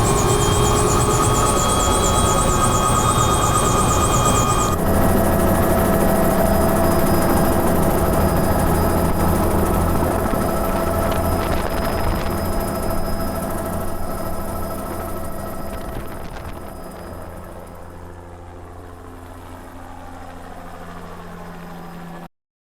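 A helicopter flies over Cape York at the tip of Australia, its engine and rotor producing a loud, steady broadband roar with a droning hum that gradually fades and thins toward the end.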